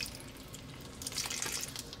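Water poured into a fattoush salad dressing in a restaurant kitchen makes a brief, soft splashing trickle, faint and close, with no talk.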